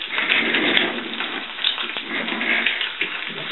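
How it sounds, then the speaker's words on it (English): Egg frying in bacon fat in a pan, a steady, close, loud sizzle with crackling spatters and no talking. "I'm not very good at flipping eggs, but I'm going to attempt to flip this one"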